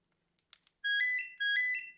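A few faint clicks, then a telephone ringtone sounds in two loud, bright warbling bursts separated by a brief gap, close and clear against near silence.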